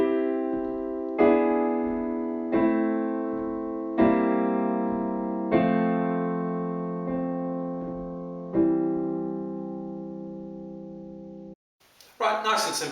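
Gospel jazz chord progression in C on a keyboard, a series of sustained chords struck roughly every second and a half, each ringing and decaying, ending with a brief burst of noise.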